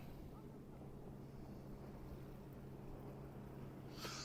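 A steady low engine drone from a boat passing on the Menai Strait, Anglesey, with wind buffeting the microphone throughout and a brief rush near the end.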